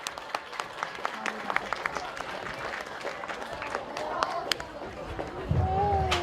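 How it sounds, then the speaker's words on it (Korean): Scattered, uneven clapping rises from a small crowd at an outdoor event for a national writing contest at Chiljangsa temple, with chatter and movement around it and a low rumble swelling near the end. "박수 한번 주세요."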